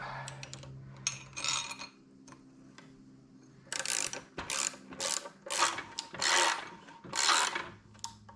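A bolt is screwed down behind a large washer on an OPC tractor, giving close, repeated ratcheting clicks in short bursts with pauses between turns.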